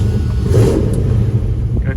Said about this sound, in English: We're gonna start up our 83 C10 four-wheel drive.